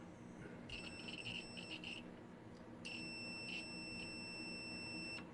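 Continuity beeper on a cheap DT-830D+ digital multimeter, two steady high-pitched tones: one lasting about a second and a half, then a longer one held for several seconds, over faint background noise.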